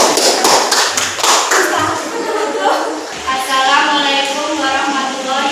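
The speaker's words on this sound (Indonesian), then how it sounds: "Kita kasih aplaus untuk kelompok 4." Audience applause for a student group at a school presentation: dense clapping rises over the opening seconds, then thins into scattered claps under a presenter's voice speaking.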